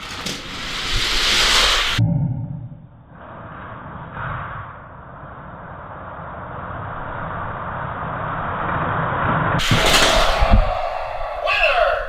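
Hot Wheels toy cars race down a track in a tournament race, giving a sustained rolling rumble for several seconds. Louder bursts of noise come at the start and the end, and voices sound briefly.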